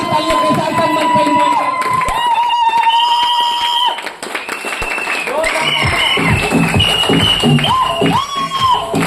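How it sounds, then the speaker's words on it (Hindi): A large audience at a business success event gives a standing ovation, with loud sustained clapping and cheering, whistles and shouts throughout, and a voice on a microphone calling out over the crowd. "खड़े होकर के जोरदार तालियों के साथ सम्मान पर"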